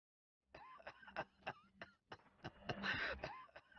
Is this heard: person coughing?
yes